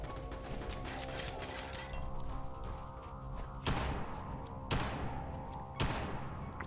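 An automated turret fires in the video game Fallout 76, three loud bursts about a second apart cutting through a steady bed of game ambience and music.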